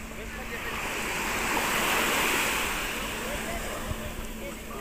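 Steady roar of Mediterranean sea waves washing onto shore at Mersin, Turkey, a broad continuous rush that swells and eases slightly, with no voices.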